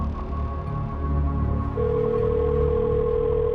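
A telephone on speakerphone starts a call: a steady electronic tone begins partway through and holds over a low background bed, with no voices.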